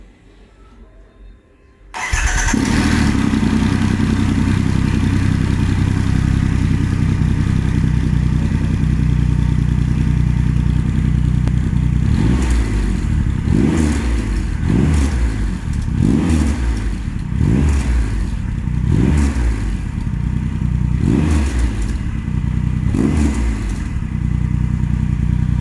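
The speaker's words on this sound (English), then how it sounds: "Shall we start her up now?" Triumph Rocket III motorcycle fitted with a Zard exhaust starting for the first time, catching with a sharp burst after a quiet moment, then idling loud and deep before a series of rhythmic throttle blips and revs.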